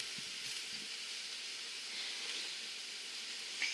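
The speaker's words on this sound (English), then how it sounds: "And I have that bacon in there, just kind of frying up along with them." Eggs and bacon frying together in a pan, a steady close sizzle and hiss throughout with a few faint pops.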